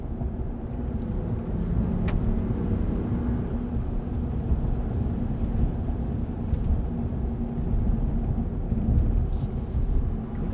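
A 2025 Ram 1500 Rebel pickup with the Hurricane turbo inline-6 accelerates in sport mode, giving a steady, loud low engine drone and road rumble heard from inside the cab, with no talking.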